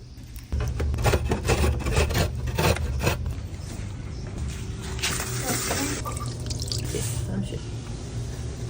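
A coconut is grated on a tin grater in a Jamaican home kitchen: rhythmic rasping strokes at first, then a more continuous scraping, with people talking in the background.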